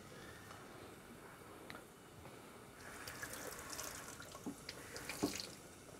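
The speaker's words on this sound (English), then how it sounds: "You want to rinse that under the tap for sure." Water from a kitchen tap runs steadily as food is rinsed beneath it at a home cooking session, a faint, continuous splashing that grows slightly busier and more spattered toward the end.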